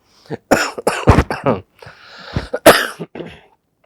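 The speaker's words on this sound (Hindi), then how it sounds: "इसलिए नहीं बोल पा रहा क्योंकि थोड़ी सी खांसी है" Several sharp, close coughs and throat-clearing bursts break up a stretch of low mumbling voice sounds.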